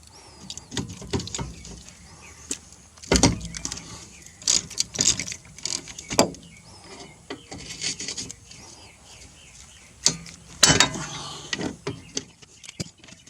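Tools work on rear brake caliper bolts, 14 millimeter, with scattered clanks, scrapes and ratcheting taps near the mic, irregular bursts separated by quiet pauses and no talk.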